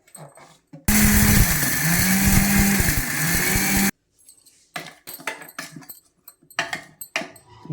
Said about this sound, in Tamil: ஜாரில் போட்டேன் எல்லாத்தையும். இப்போ பொடி பண்ணுறேன்.